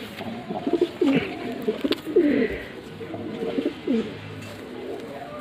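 Madrasi pigeons in a loft give soft, throaty coos in short repeated bursts, fairly close and moderately loud over a steady background hum, with no talk over them.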